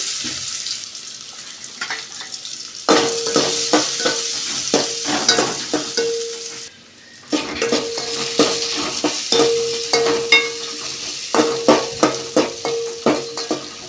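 Onions sizzling in hot oil in a pan with repeated scraping and stirring strokes in bursts, a brief pause midway, then more stirring against the steady fry.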